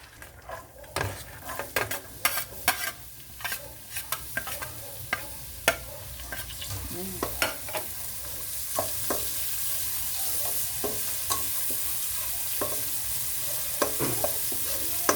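Onion and garlic frying in leftover pork chop oil for bistek Tagalog, a steady close sizzle with frequent sharp clinks and scrapes of a utensil stirring against the pan throughout.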